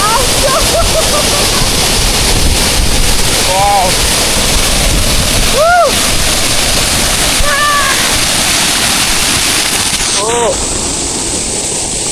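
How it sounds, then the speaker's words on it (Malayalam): Loud, constant roar of rushing water from a nearby waterfall, with a few faint bird calls chirping over the steady noise. "സത്യം പറഞ്ഞാലോ അടിപൊളി വെള്ളച്ചാട്ടം"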